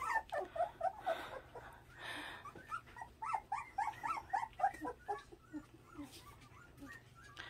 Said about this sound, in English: They're playing now, and they are barking now